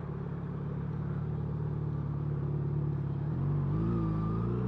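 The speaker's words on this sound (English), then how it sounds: "I'm on my way home in this awesome traffic" A car engine rumbles steadily in heavy road traffic on a drive home, a low continuous drone that rises in pitch as the engine revs near the end.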